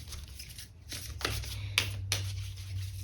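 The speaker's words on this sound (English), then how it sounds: "So let's grab one of these super attractor cards for you." Super attractor oracle cards being shuffled by hand, a few soft riffling bursts and flicks close by with no talking.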